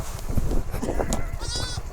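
A goat gives a single short, wavering bleat near the end, heard over rumbling outdoor background noise and movement.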